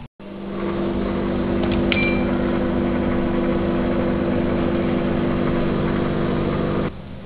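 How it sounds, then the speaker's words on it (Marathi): A microwave oven runs steadily on high power, heating uncovered halwa, with a constant low hum and whir from start to end and a brief faint beep or clink partway through. "हलवा आणि मायक्रोवेव्हमध्ये हाय पॉवरवर न झाकता 2 ते 3 मिनिटं शिजवा."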